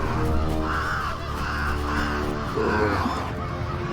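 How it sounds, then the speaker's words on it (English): Crows cawing in a video game as they scatter from a shaking tree, a run of four harsh, evenly spaced caws, loud and close, followed by a shorter call. "A tree shakes in front of them, sending birds flying off into the sky."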